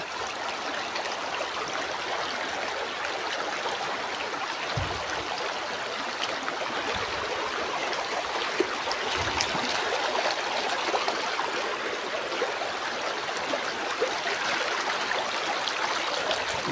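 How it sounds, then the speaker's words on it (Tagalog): A stream flows steadily nearby, a constant rushing trickle and gurgle of water that holds at an even level throughout, with a few soft low thumps along the way and no talking. "may sapa po dito"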